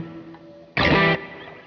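A guitar played through a pedalboard with a short plate reverb sounds one bright, distorted burst of about half a second, and a quick, fading tail of reverb follows it.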